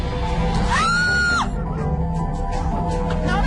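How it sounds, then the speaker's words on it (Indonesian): A visitor screams inside a haunted house ride, one loud, drawn-out shriek rising sharply and holding for about a second over a noisy, crowded background, then fading into general commotion. "pengunjung akan berteriak minta ampun agar petugas mengeluarkan mereka dari wahana tersebut"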